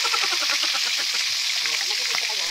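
Loud, steady crackling and spattering of bangus (milkfish) daing frying in hot oil in a pan, with a voice talking over the sizzle.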